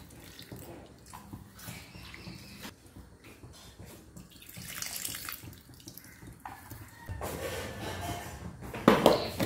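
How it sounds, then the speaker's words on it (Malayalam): Tamarind water is squeezed out by hand and poured into a curry mix in a home kitchen: irregular trickles and splashes come and go, growing louder and wetter toward the end. "ഇനി ഇതിലേക്ക് നമുക്ക് പുളിവെള്ളം പിഴിഞ്ഞിട്ട് ഇതുപോലെ ഒഴിച്ചെടുക്കാം."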